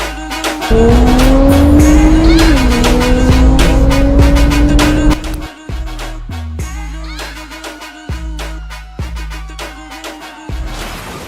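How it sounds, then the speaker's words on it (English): Nissan GT-R engines roar loudly at night in Times Square, Manhattan, during a high-speed police chase: a sustained rising high-revving wail for about five seconds, then a series of shorter revving bursts and gear changes. "The nighttime silence of Times Square was shattered by the roar of GTR engines."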